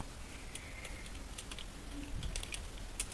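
Typing on a computer keyboard while entering numbered bullets in Microsoft Word, a quiet run of scattered key taps and a few sharper clacks over a low background hiss.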